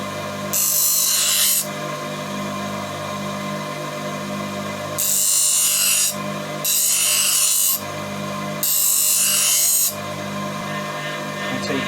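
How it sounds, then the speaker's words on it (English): A smoothing plane blade's bevel is shaped into an arc by abrasive rubbing, heard as loud, raspy grinding strokes in four bursts of one to two seconds each, separated by pauses over a low steady hum. "what we need to do is actually shape the bevel to that arc, making sure that you kind of evenly move it from the center."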